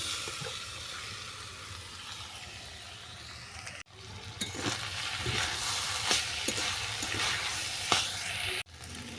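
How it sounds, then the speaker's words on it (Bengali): Cooked rice is stir-fried in a hot pan for fish fried rice, with a moderate continuous sizzle and occasional stirring clatters, interrupted by a couple of brief cuts. "এরপর ভাতটাকে তুলে দেবো।"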